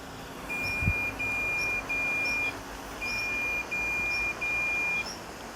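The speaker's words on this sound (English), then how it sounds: "it stops and beeps when there is something in the way" A Mammotion Yuka 2000 robot lawn mower, stopped at an obstacle, gives a run of long, steady electronic beeps in an even rhythm, fairly close, over a low background hum with a single thump near the start.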